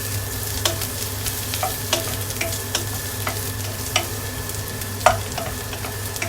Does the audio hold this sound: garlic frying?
yes